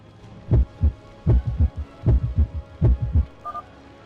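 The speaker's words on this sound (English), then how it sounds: "can still hear heartbeats" Heartbeat of a creature in a video game, heard as repeated double thumps, lub-dub pairs in a steady throbbing rhythm, loud and close with no talk over it.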